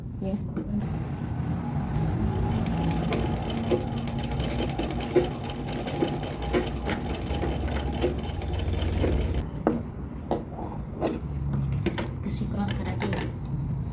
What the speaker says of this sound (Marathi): 1/2 इंचावर घ्या शिलाई